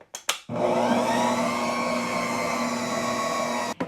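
A stand mixer or blender churns whole wheat bread dough made with fresh milled flour and Greek yogurt, starting with a few short bursts and then settling into a loud, steady motor whir that holds for several seconds before cutting off.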